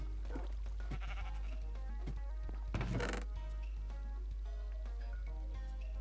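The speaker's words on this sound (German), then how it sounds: "Jetzt geh weg da, Schaf, Mensch." Sheep bleating in the video game Minecraft, a few short bleats over a steady background music bed, with one louder burst near the middle; no one speaks.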